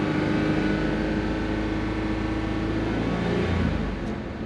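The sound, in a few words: car engine revving to about 2,000 RPM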